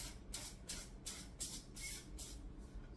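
Short bursts of cooking oil spray hiss repeatedly in a steady rhythm, about six quick sprays close by onto zucchini slices on a tray for air frying, with soft handling noises in between.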